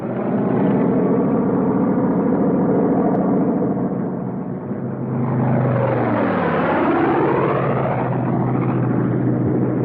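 Propeller-driven P-47 Thunderbolt fighter planes in loose string formation peel off one behind the other into a bombing dive. A loud, steady engine roar swells and shifts pitch downward as the planes sweep past close by, with no talk.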